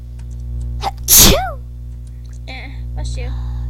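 A single loud, sharp human sneeze bursts out over a low steady hum, preceded by a faint sound and followed by brief quiet voices.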